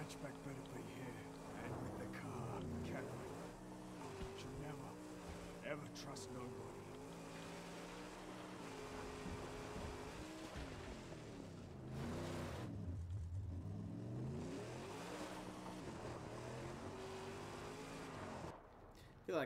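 A fast double-engine car racing in the Mad Max game, its engine note rising and falling through repeated gear shifts with a sharp roaring swell near the middle, while a voice talks intermittently over it.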